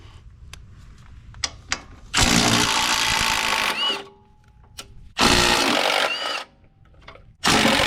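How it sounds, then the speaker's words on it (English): A power tool whirs in three loud bursts while taking the bolts off a plate on a piece of equipment, separated by quieter clicks, clanks and metallic handling sounds, close up with no voices. "the next step is going to be to remove all of these bolts, and then this plate should come off"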